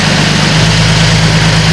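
A Nissan 370Z engine idles loudly and close by, a steady low rumble with a faint rhythmic pulse throughout.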